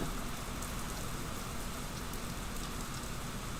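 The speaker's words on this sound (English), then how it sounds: "it's raining. I just now heard rain. So much rain." Steady, dense rain pours down inside the game Phasmophobia, a constant hiss with no breaks, moderately loud and alone without any voices.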